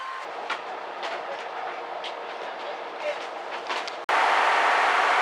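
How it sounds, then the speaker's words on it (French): A series 187 limited express train on Japan's San'in line rumbles past with a steady roar and faint rhythmic clatter, then the noise abruptly swells louder and brighter as it draws close. "C'est donc un train de la série 187, la série de Limited Express de la ligne San'in"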